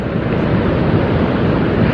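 Surf breaking against the shore of a misty, murky sea near a lighthouse at dawn, a steady, loud wash of waves mixed with wind buffeting the microphone, with no voices.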